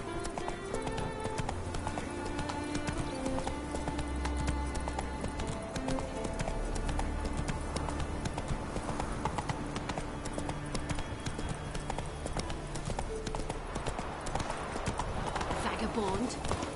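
Roach, the horse in The Witcher Wild Hunt video game, gallops in a continuous fast run of hoofbeats, with game music and voices talking over it throughout.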